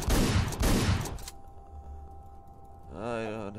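Shotgun blasts in the video game Hotline Miami come as a loud, dense burst of rapid reports in the first second or so. Quieter game sound follows, then a voice rises near the end.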